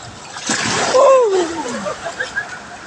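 Floodwater splashes and sloshes close by in a few surges, while a voice speaks briefly over the churning.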